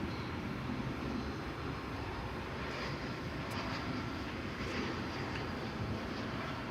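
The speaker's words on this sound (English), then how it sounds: "American Airlines flight 2360 is next on the docket. It's coming in from Las Vegas" An American Airlines airliner arriving from Las Vegas at DFW Airport at night, its engines a steady, broad rumbling roar that holds evenly throughout, with no voices.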